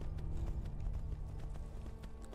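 Horse hooves clop in a quick, steady rhythm while riding in the video game Skyrim, faint and low under a rumbling game soundscape with no talk.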